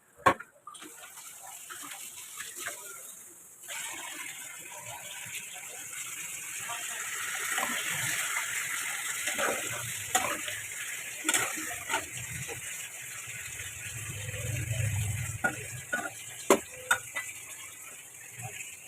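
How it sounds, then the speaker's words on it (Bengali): Water is poured into cooking spice masala for egg biryani, a soft gush followed by sizzling and bubbling in the pan, with scattered clinks of utensils nearby. "মশলাটাতে না পুড়ে যায় তার জন্য আমি একটু এর মধ্যে জল দিয়ে দেবো।"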